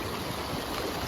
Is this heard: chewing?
no